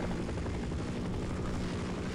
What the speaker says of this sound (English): Yes, yes, yes, helicopter. You are my friend, but also my enemy.